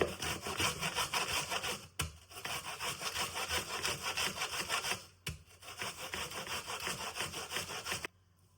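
Fresh corn kernels are grated off the cob in a steady, rhythmic rasping scrape, close and continuous, broken by two brief pauses before the scraping stops.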